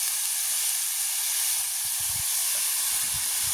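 Chopped tomatoes dropped into a hot cooking pot on a village stove, giving a steady broad sizzling hiss that holds evenly throughout, close and moderately loud.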